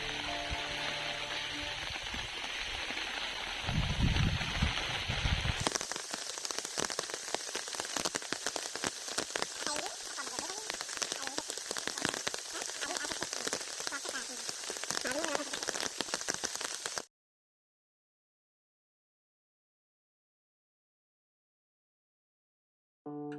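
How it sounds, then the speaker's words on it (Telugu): Steady rain patters on a surface at Japali Hanuman temple in Tirumala, a dense hiss of drops that grows sharper after a few seconds, then cuts off to silence. "చూసారుగా రెయిన్ పడుతున్నప్పుడు ఎలాగుందో"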